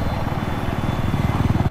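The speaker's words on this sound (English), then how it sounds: "Enemy AA and chopper is up, I think." A helicopter flies in the Battlefield video game on the Caspian Border map, its rotor thudding in a fast, steady low beat that sounds loud and fairly close, cutting off abruptly at the end.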